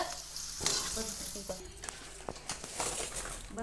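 Papad frying in hot oil while onion and potato bhaji are being prepared, a steady close sizzle with a few clinks and stirring scrapes along the way.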